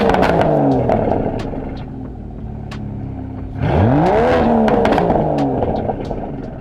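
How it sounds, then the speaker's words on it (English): An Aston Martin DBS Superleggera engine idles in Sport Plus mode with a deep rumble, then revs sharply, its pitch climbing and falling in a loud, close roar. "let's hear the engine one more time in Sports Plus mode"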